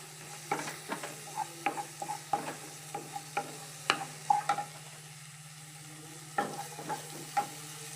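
Small shallots and tomato fry in hot oil in a pan while a spoon stirs them in repeated scraping strokes over a soft, steady sizzle.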